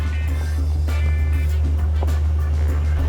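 A pickup truck with double wishbone suspension rolls along a rough road, filling the cabin with a steady low rumble and occasional soft bumps, fairly quiet overall.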